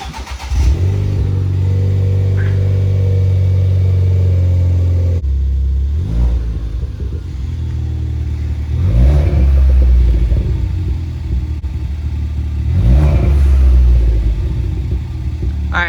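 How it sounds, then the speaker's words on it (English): Ford Fiesta ST with a Maperformance exhaust fires up from cold: a sharp start, then a loud rumbling idle broken by a few blips of the throttle that rise and fall, no talking. "now we're going to do a cold start with the Maperformance exhaust"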